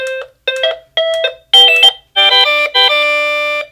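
A SadoTech RingPoint driveway alert receiver plays a bright melodic ringtone chime of several loud, clean tones, the last note ringing out and sustained.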